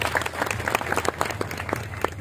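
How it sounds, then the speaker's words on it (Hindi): A crowd at a Rajasthani devotional music gathering gives a brief, moderately loud round of applause, with scattered individual claps standing out against the steady patter. "ताली बजाओ एक बार।"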